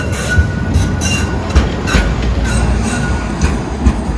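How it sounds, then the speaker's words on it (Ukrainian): A tram rolls past close by on a street in Lviv, loud rail rumble with rhythmic clacks of wheels over joints and a faint metallic squeal. "Трамвай."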